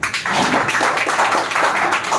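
An audience at a women's empowerment speech competition semi-final claps for a speaker, dense continuous applause at close range and fairly loud throughout.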